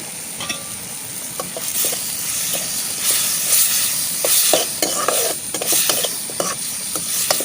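Ingredients fry in hot oil for tomato saaru, giving a loud crackling sizzle with repeated spoon scrapes and taps against the pan, the sizzle swelling from the second second onward.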